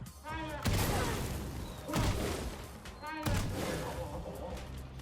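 Three heavy booming cannon blasts in the video game Clair Obscur: Expedition 33, each followed by a long rumbling decay, evenly spaced and loud, with a voice talking briefly between them.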